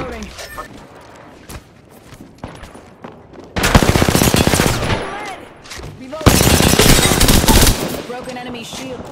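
Automatic gunfire in the video game Apex Legends comes in two loud, rapid bursts of a few seconds each, separated by quieter game sounds, with voices talking throughout.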